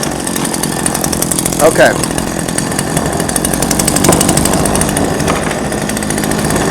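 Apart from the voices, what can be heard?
gasoline chainsaw starting and running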